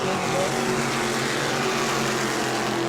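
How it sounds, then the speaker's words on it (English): Race cars circle the track at a Sunbelt Series event in New Smyrna, heard as a steady, continuous engine roar at moderate distance without distinct passes or revving peaks. "The car on the track is Christopher Hatton Jr."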